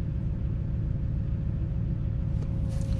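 A car engine with its EGR valve unplugged idles in a steady low rumble, close and even, with a faint hint of a miss and no talk.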